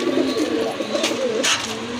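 Rajgolla pigeons coo nearby at a pigeon market, soft rolling coos with a faint rustle, brief and close, no speech.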